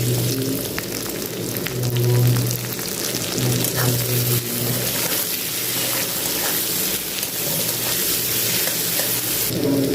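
Four raw onions fry in hot oil in a wok for a bottle gourd and prawn curry, giving a loud, dense, unbroken sizzle with a rain-like hiss, close and steady, no voices.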